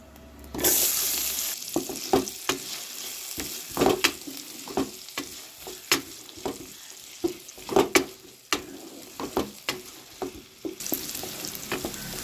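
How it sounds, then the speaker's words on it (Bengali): Sliced onions with cumin seeds and dry red chillies sizzle in hot oil in a kadai, broken by repeated scraping stirs and clinks, with no voices. "কড়াই তেল দিয়ে জিরে আর শুকনো লঙ্কা ফোড়ন দেবো এবং পেঁয়াজগুলোকে দিয়ে দেবো, ভালো করে ভেজে নেব"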